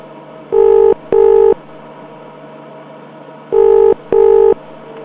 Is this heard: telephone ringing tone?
yes